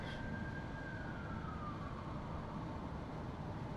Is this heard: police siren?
yes